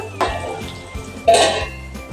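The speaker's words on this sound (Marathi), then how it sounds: "अजून आता आपण झाकण ठेवूया." A metal lid is set onto a cooking pot of stuffed brinjal, giving two close clanks, the second louder with a brief ringing clatter.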